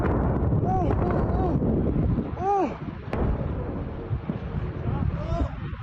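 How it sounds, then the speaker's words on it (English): Israeli airstrike over Tabriz, Iran: a loud, continuous rumbling blast roar fills the clip, with a sharp crack near the middle and voices calling out over the din. "this is another, all right, Israeli airstrike over on Tabriz"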